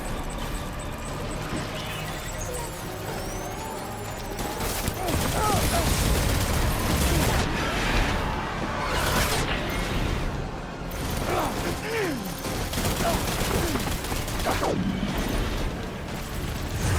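Gunfire in the video game Death Stranding, bursts of shots and booms within a dense, loud mix of mechanical clatter and heavy sound effects, with voices heard in the middle of the action.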